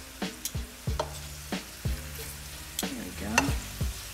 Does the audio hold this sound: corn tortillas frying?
yes